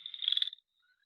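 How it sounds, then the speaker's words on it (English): A recorded American toad gives a short, high, steady trill lasting about half a second, loud and alone, then fading to silence. "did you hear that loud trilling sound? That is the American toad"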